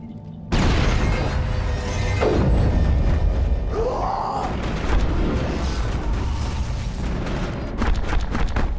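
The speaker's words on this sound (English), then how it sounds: "Throw a grenade at the Husk's feet now." A grenade goes off in Mass Effect with a sudden loud boom, followed by a long rumbling, crackling tail and scattered combat noise, with a voice faintly audible underneath.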